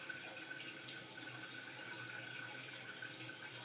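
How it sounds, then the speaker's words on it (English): A toilet tank refilling after the water supply valve is reopened on a Kohler Cimarron toilet, with steady continuous hissing, rushing water running close and unbroken until it stops abruptly. "the tank is filling"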